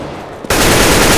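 Sudden loud burst of gunfire in Counter-Strike: Global Offensive, a sharp crack after a quieter lead-in that then holds as a dense, sustained wall of shooting noise.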